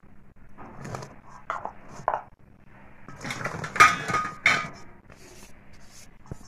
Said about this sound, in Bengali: এই শুকনো উপকরণগুলোকে ভালো করে মিশিয়ে নিতে হবে।